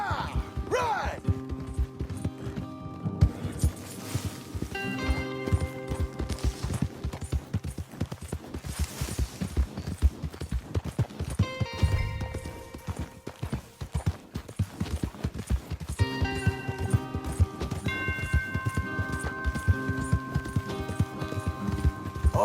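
Horse hooves clip-clop in quick, uneven galloping rhythm across a video game scene in Red Dead Redemption 2, layered with music tones and occasional thuds.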